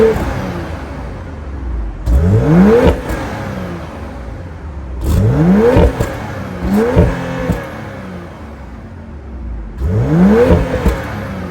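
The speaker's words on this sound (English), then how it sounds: "that was the sound of the 3-liter B58 inline 6-cylinder turbo" A 2024 BMW X7 xDrive40i's 3-liter B58 turbocharged inline six revs hard in four separate blips, each rising sharply then dropping back to a steady idle, loud and close.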